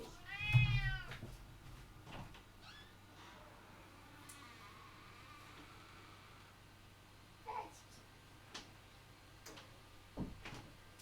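A cat meows once near the start with a rising, wavering cry, followed by quiet room ambience and a few soft knocks and bumps.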